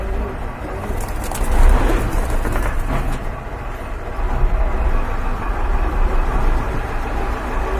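Pigeons in a coop offered for sale, soft cooing close at hand under a loud, rushing background noise.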